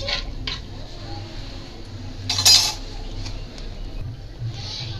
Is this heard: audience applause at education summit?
no